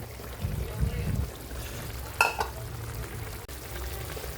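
Pinakbet vegetables frying in a pan with a low sizzle under a voice, then a brief clatter and splash as eggplant is added, the sizzle continuing quietly afterward.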